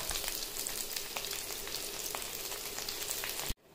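Hot oil sizzles steadily over steamed fish, a dense, even frying hiss with faint crackles that holds loud and close before cutting off abruptly near the end.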